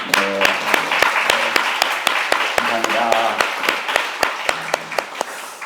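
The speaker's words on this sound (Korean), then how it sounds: "우리 박수로 한번 축하하겠습니다" A church congregation claps for newlyweds during a Sunday worship service, a steady patter of many hands filling the room while someone speaks over it briefly.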